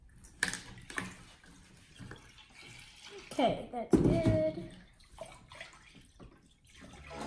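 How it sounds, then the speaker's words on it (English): Milk is poured into a container for homemade slime, a liquid splashing pour mid-clip beneath a person speaking briefly, with light handling noises around it. "pour in our milk about 2 inches high"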